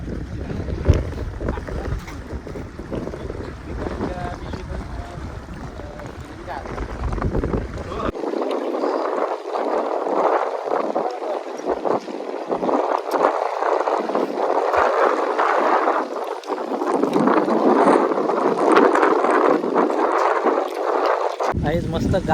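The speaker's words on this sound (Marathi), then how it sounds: "काहीच मस्त गारगार वारा उठलाय" Cool breeze blowing steadily at Pali Bhutiwali Dam, a broad, continuous rush of wind buffeting the microphone outdoors, rising and falling in gusts, with faint voices in the background.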